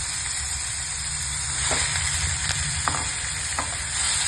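Grated white watermelon rind sizzles in a hot pan with asafoetida (hing), a continuous close frying hiss broken by a few brief stirring scrapes, with no voices.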